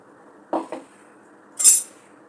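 A spoon clinks against a bowl as powdered sugar and saffron strands are mixed in, a pair of quick taps followed by a brighter metallic scrape, close and quiet with no voices.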